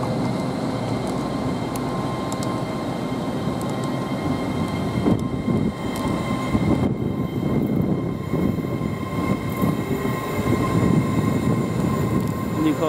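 An LNER Azuma Class 801 train departs York for London King's Cross, a steady rumbling roar of the train moving off nearby, swelling slightly as it pulls away.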